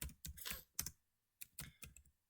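Someone types code on a computer keyboard in short quick bursts of crisp key clicks with brief pauses between them, close and fairly quiet, with no talk.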